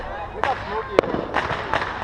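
A small backyard firework cake, roughly a six-shot, pops off in a quick burst of sharp cracks, with one strong bang near the middle. People talk and react throughout.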